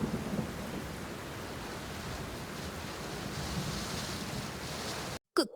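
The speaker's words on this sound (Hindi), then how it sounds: "ओ नहीं, कितनी तेज बारिश!" Heavy rain pouring down steadily with rumbling thunder beneath it, a dense continuous roar that cuts off abruptly at the end.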